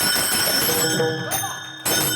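Taal hand cymbals in Ganpati devotional worship give off a sustained bright ring that dips briefly, then strikes back strongly. Voices can be heard alongside the cymbals.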